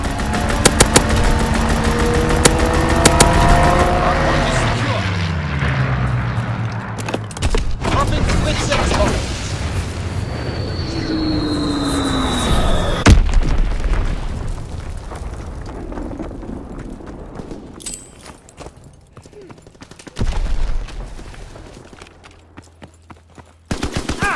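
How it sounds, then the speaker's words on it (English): An aircraft strafing run in Call of Duty WWII ranked play, with a loud engine roar and diving whine, then bursts of rapid gunfire and heavy explosions that fade into scattered shots. In-game voices call out over the action. "Pilot inbound, strafing the target."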